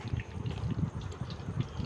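Chicken cutlets, coated in egg and breadcrumbs, bubble and sizzle in hot oil with a low, busy crackle that continues steadily close by.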